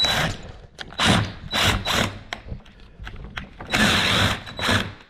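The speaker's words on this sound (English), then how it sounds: "you grab your impact screw, you slap it in there, and you use this to make threads" An impact driver forces a thread-forming screw into plastic on a Can-Am Defender gun case mount, giving repeated bursts of rapid hammering clatter separated by short pauses, close and loud.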